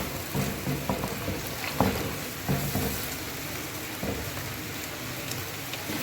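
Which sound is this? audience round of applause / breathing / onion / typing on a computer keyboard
onion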